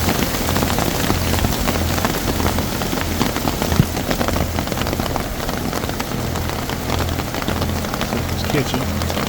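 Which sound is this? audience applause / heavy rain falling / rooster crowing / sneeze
heavy rain falling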